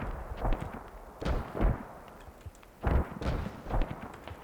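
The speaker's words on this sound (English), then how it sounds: "We see a pair of mortars still rocking that enemy hab." Mortar fire in the video game Squad pounds an enemy HAB spawn point, with several heavy booming impacts spread unevenly across the moment, some deep and rumbling, others sharper, over a low battlefield background.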